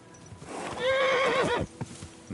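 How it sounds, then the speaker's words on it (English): A horse gives a clear, falling whinny close by, with soft clip-clop hoofbeats scattered around it in a game setting. "Easy, good horse."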